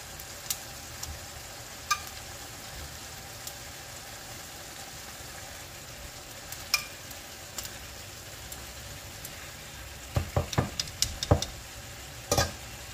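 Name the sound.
fried spare ribs sizzling in a pan with tomatoes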